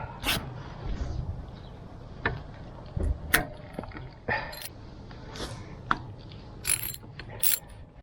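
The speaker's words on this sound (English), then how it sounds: "Okay, so I got a number 10 socket on there." A ratchet with a 10mm socket turns screws while a fuel injector is replaced on a 1995 Subaru, giving quick clicking bursts and metallic knocks amid handling noise, close and fairly quiet.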